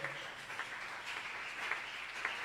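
A church congregation claps during a worship service, a faint, steady wash of applause with a few louder individual claps, distant and soft.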